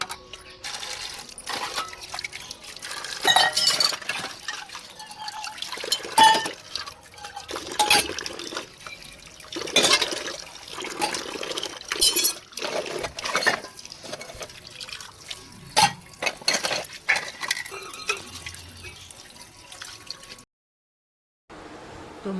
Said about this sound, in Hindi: तो चलिए बर्तन धो लेते हैं।